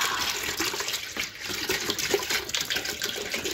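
Date palm sap poured into a pot, a continuous splashing, gushing pour of liquid heard close up and fairly loud for a few seconds, with no voices.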